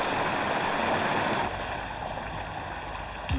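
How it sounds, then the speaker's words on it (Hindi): Water released in a cartoon rushes as a steady hissing flow, louder at first and then easing off, with a short sharp tone right at the end. "अब मैं पानी छोड़ता हूँ।"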